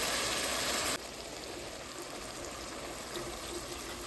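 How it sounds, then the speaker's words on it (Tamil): Water pours steadily into a cooking pot of sambar with coconut milk and sambar powder, a broad continuous splashing that is louder for the first second, then settles into a softer, even stream. "கொஞ்சம் தண்ணி ஊற்றிக்கோங்க அவியட்டும்"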